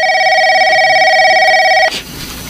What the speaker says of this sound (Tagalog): Oh, ayan, may tumatawag sa telepono.